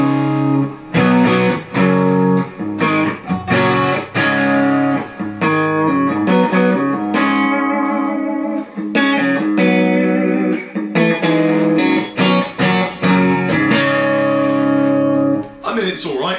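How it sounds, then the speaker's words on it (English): An electric guitar plays through a micro head amp set to a crunch tone, a continuous run of strummed chords and single notes with distorted sustain, loud and steady for the whole stretch. "Let's go to a crunch. So we'll give it a little bit of that."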